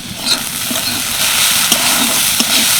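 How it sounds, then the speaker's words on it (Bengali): Potatoes and carrots seasoned with salt and turmeric are stirred in a hot pan, giving a steady sizzle with soft, irregular scraping taps of the spatula every second or so, close and continuous with no talking. "নুন আর হলুদ দিয়ে একটুখানি নেড়ে চেড়ে নিলাম"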